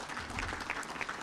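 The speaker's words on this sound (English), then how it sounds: "Ladies, clap more." Students clap at a university freshers' orientation, a dense, steady patter of many hands at moderate loudness, continuous through the moment with no pause.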